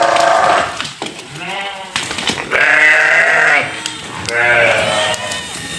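Goats on a farm in Saudi Arabia bleating as they are let outside, several loud, close, wavering calls overlapping one after another.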